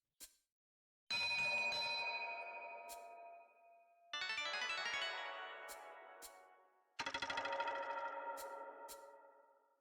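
A ship's bell effect from the baseball video game Super Mega Baseball 4 rings out in three loud, bright, clanging strikes, each one ringing on and fading slowly. A tiny tick comes first, and no one speaks.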